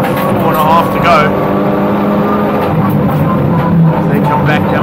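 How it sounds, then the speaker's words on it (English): SupaCup Polo GTI race cars pushing flat out on the track, a loud, continuous engine drone with rising and falling pitch, running beneath a voice talking over it. "SupaCup Polo GTIs over the 220k an hour mark."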